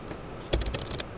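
Brief burst of typing on a computer keyboard while naming a new folder, several close, crisp key clicks packed into about half a second.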